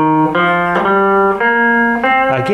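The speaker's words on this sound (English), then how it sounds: "if we do a minor pentatonic, it sounds like this." Solo guitar plays a minor pentatonic scale in rock style, one clear sustained note after another in a steady stepwise run, close and loud with no talking.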